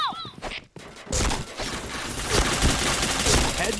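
Gunfire from a shooting video game, opening with a few sharp isolated reports and then loud, dense, continuous bursts that sound like automatic fire, with game sounds mixed in.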